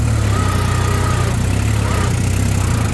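A New Holland TT3.50 tractor engine ploughing in low gear, a loud, steady, low droning rumble with constant vibration heard up close, with no voices over it.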